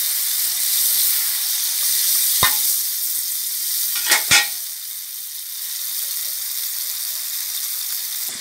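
Water poured onto pumpkin frying in a pan bursts into a loud, steady sizzle and hiss, with a few sharp clinks of a utensil partway through.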